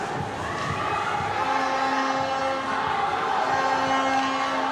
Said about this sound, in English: And we hear the local fans cheering, of course, for Hong Kong, China.